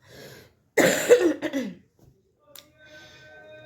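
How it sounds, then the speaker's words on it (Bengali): One harsh, close cough from someone with a lingering cough and a tight, sore throat bursts out, followed by a smaller raspy catch of the throat, then near silence. "আর কাশিটা মাঝে সাঝে হচ্ছে"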